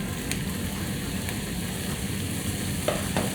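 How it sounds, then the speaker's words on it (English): Salmon and frozen vegetables sizzle steadily in a stir-fry pan, a continuous loud frying hiss with a few faint clicks and no talk. "we'll add the salmon back to the pan. So we'll just slide that right back in."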